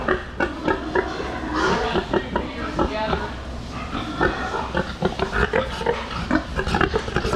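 Pigs in a farm pen, many close grunts and oinks in a busy, overlapping stream over steady barn noise.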